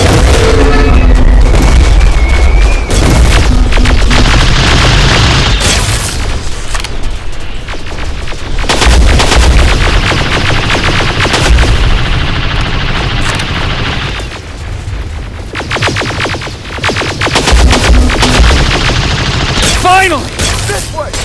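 Heavy gunfire rattles through a battle in the video game Terminator Resistance, with rapid bursts, booming blasts and explosions, loud and near, broken by brief lulls and occasional shouted voices.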